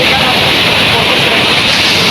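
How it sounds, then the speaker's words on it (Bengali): Khoiyachora Waterfall pours down a hillside in Bangladesh, heard as a loud, dense, unbroken roar of rushing water very close by, with wind buffeting the microphone. "দেখেন কীভাবে ঝর্নার পানি উঠতেছে"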